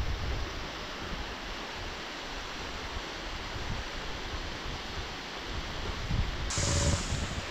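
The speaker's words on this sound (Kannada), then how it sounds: "ಇದು reality of the foil. ಕೂಕಲ್ water falls." Kookal waterfall in Kodaikanal, running low on water during rain, gives a steady, even rushing wash of noise that continues without a break throughout and swells slightly near the end.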